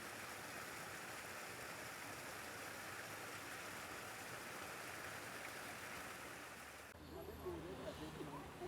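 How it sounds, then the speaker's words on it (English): A small waterfall in Beacon Hill Park, flowing from an offshoot of Fountain Lake under a bridge, gives a steady broadband rush of falling water, close and continuous, changing character near the end as the listening position shifts. "Nice little waterfall leading right underneath the bridge here."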